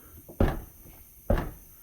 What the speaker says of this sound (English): now you go to close the door